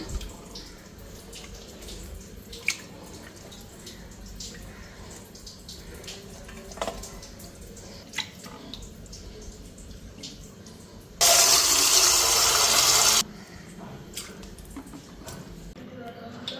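Water pours from a tap or vessel for about two seconds to wash catla fish in a home kitchen. The gush is loud and close against a quiet background of faint clinks and light household noise.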